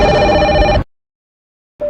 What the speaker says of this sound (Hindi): अचानक बूथ के अंदर से फोन की घंटी बजने लगी